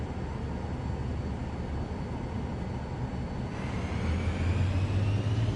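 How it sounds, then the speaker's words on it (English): Airliner engines shutting down in Microsoft Flight Simulator 2024, a loud, steady engine roar that shifts partway through into a deeper hum with a thin whining tone. "now we stop the airplane, turn the engines off"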